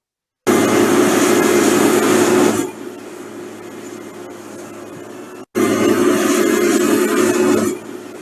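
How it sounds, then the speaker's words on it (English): Landfill garbage compactor heard up close, a loud broad rumbling grind that drops to a quieter drone, cuts out briefly, then surges loud again before easing off. "I also wanted you to hear what one of these compactors sounds like up close"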